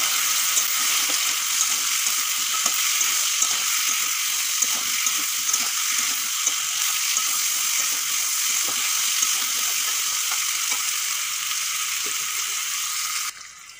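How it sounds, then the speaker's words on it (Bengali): Plantain and potato pieces frying in a pan, a steady loud hiss of sizzling oil lasting throughout with faint scattered crackles and occasional stirring taps, no voices. "কলা আর আলু 4-5 মিনিট ভেজে নিয়েছি।"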